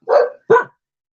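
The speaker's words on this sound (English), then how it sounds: "I'll talk between barks." A dog next door barks twice in quick succession, loud and close, each bark short and sharp, followed by silence.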